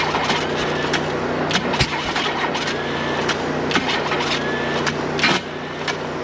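An inline six engine idling roughly with a misfire and backfiring up the intake, a steady close-up running drone punctuated by irregular sharp pops and a stumbling beat, with no speech.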